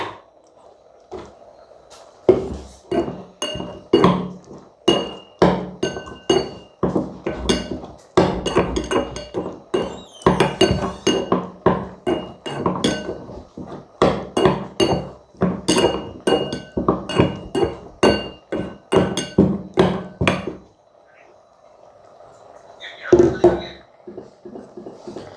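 Boiled tomatoes being crushed into a paste in a kitchen, heard as a long run of sharp, hard taps and clinks of a utensil on a bowl, steady and repeated for about twenty seconds before a brief pause.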